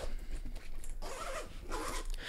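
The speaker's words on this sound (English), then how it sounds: "the zippers are very flexible, so I can open the main compartment from the top" A backpack's main compartment zipper is pulled open in several quick, close ripping strokes with short pauses between them, crisp and alone.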